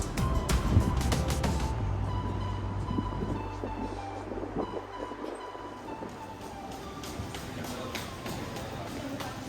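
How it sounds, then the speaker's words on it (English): A Shanghai subway metro train carries riders with a steady, close rumble of wheels and car noise, with faint tonal whines running through the ride. "One of the best ways to get around the city here is the subway, because this thing is massive."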